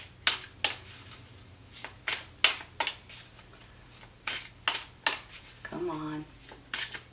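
Tarot cards are shuffled in repeated crisp riffling bursts at an irregular rhythm, close by, with a brief spoken phrase partway through.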